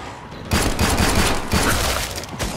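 Rapid bursts of gunfire from the shooter game Killing Floor 2, dense overlapping shots that come in two or three loud volleys close up.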